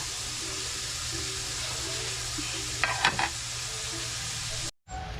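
Food cooks in a covered pan with a steady, close sizzle and crackle throughout. A brief clatter cuts in partway, and the sound drops out for a moment near the end.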